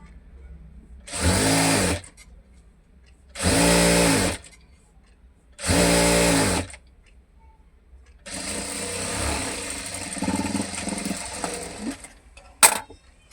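A sewing machine stitching the side slit of a readymade chudidar top, running in three separate bursts of steady whirring, then a longer, rougher run of stitching ending in a sharp click, close up with no talk.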